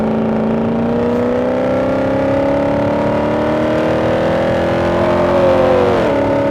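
A 2009 Maserati Quattroporte Sport GTS engine accelerates steadily, its pitch climbing loud and close for several seconds before dropping sharply near the end as it lifts off.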